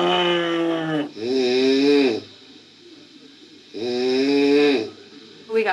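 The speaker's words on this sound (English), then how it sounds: "Is that her snoring?" Woman snoring in a jungle camp at night, two long rasping inhalation snores with a quiet pause between and a third starting at the end, close and loud.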